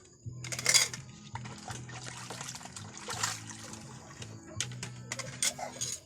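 Soaped plates being rinsed at a sink give a trickle and splash of running water, with clinking dishes and cutlery knocking in quick irregular bursts and faint voices in the background.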